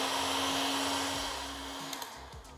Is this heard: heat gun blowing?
yes